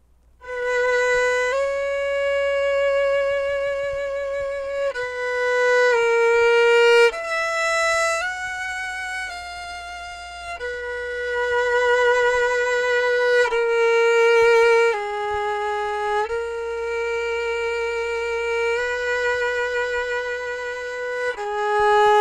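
Bowed strings play a slow, sustained melodic line from the final movement of Messiaen's Quartet for the End of Time, with long held notes gliding smoothly into one another. The sound is steady, close and unaccompanied, with no talking.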